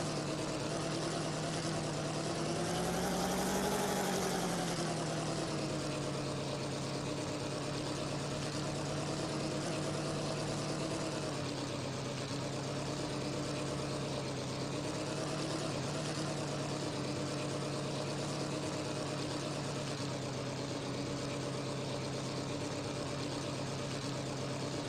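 A heavy tank's engine runs and idles, a steady droning rumble with a brief rev near the start, then it settles into an even, unbroken idle for the rest of the stretch.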